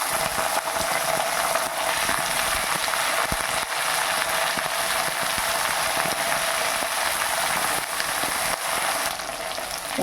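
Chopped eggplant fries with roasted peanuts in a pan, giving a dense, steady crackling sizzle that runs unbroken for the whole stretch, with faint scraping stir strokes mixed in.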